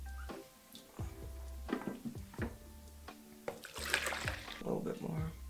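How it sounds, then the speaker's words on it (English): Running water rinses film inside a home developing tank, splashing and trickling close by in uneven bursts, with a low hum underneath and someone speaking briefly. "Now I will rinse the film off."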